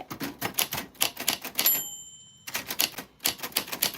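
Vintage typewriter keys struck in quick irregular bursts, a short pause with a faint bell-like ring and carriage movement, then steady close typing resumes.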